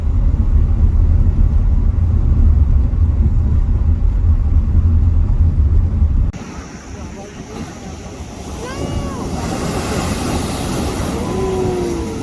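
A car drives along a road through the rainforest near Yamba, Iluka and Woolgoolga. Heavy, steady road rumble drops to a softer engine hum, and then faint bird calls come through.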